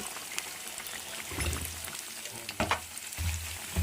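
Lentils frying in oil in a pan on the stove, a soft continuous sizzle with occasional crackles and light stirring scrapes, close and fairly quiet, no talking.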